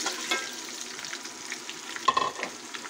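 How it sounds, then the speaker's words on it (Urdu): Boiled mutton fries with onions in a pan, a soft, steady sizzle with light stirring scrapes and one brief louder clatter near the end. "اس کو 2 سے 3 منٹ اچھی طرح پیاز کو ٹچ فرائی کریں گے"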